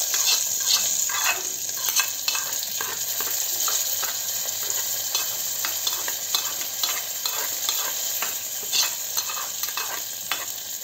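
Tempering for fenugreek buttermilk curry sizzles and crackles steadily in hot oil while a spoon stirs and scrapes the pan, loud and close, with no voices.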